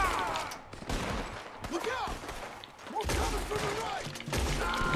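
Repeated gunfire from the video game Red Dead Redemption 2, a run of sharp shots in bursts spread across the clip, close and loud, with game ambience and other sounds mixed in.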